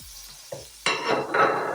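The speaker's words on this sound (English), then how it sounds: "I'm just gonna bring my heat down a little and continue to stir this." Garlic and parsley are stirred in a hot pan for a fettuccine and honey garlic salmon dish. A faint scrape gives way to loud, steady sizzling and frying that continues to the end, with no voices.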